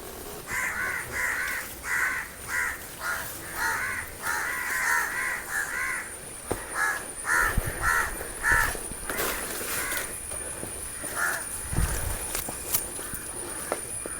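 Crows caw harshly in rapid, repeated bursts, loud and close, as they mob a cobra swallowing a crow chick. Scattered footstep-like thumps and rustles sound underneath.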